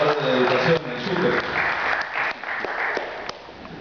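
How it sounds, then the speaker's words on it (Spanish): An audience applauds at a cultural event honouring the founder of a teachers' union, with a dense wash of clapping that starts strong and slowly thins out, heard at close range. "Fuertes palmas para él, fundador del Sindicato de Trabajadores de la Educación, el SUTEC."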